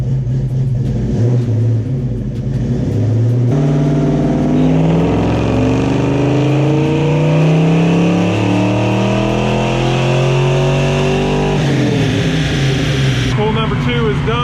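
A Ford 302 V8 with Trick Flow heads, cam and intake roars through a dyno pull, its pitch climbing steadily under load before cutting back near the end, loud and close, with a voice over it.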